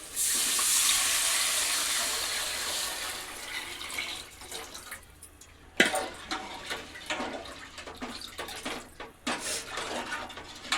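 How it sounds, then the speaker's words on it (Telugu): Fish curry broth is poured into a pot for boiling, a steady loud splashing rush of liquid for several seconds that breaks off into scattered clinks, knocks and drips from the pot and utensils. "ఇప్పుడు ఈ పులుసుని అయితే ఇలా పోసి మరగబెట్టుకోవాలి"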